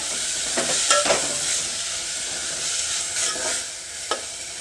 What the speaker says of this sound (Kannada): ಎಣ್ಣೆಲಿ ಸೊಪ್ಪನ್ನು ಸ್ವಲ್ಪ ಫ್ರೈ ಮಾಡಬೇಕು